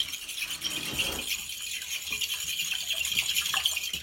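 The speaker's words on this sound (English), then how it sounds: "And we'll give them a quick whisk." Eggs get a quick whisk in a bowl, producing a steady rapid scraping rattle that keeps up without a break and is heard close, with no talking.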